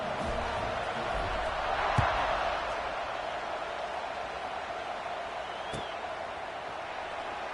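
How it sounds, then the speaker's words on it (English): Broad, steady crowd roar fills a college football stadium after a score, dense and continuous with a slight swell early on, then holding a constant murmuring wash. "this crowd is buzzing after that last score"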